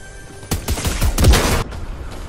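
A rapid burst of gunfire in a Fortnite match at Tilted Towers: several close, loud shots in quick succession over about a second, then fading into quieter background noise.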